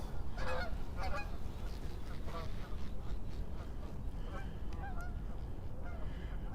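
A flock of geese flies over a lake on a cool autumn day, their repeated honking calls coming in bursts over a steady outdoor rumble of wind and distant noise.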